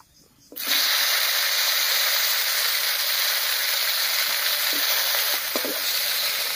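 Chopped tomato hits hot oil tempered with nigella seeds and dried chilli, bursting into a sudden loud sizzle that holds steady, with a few soft stirring clicks and no talking.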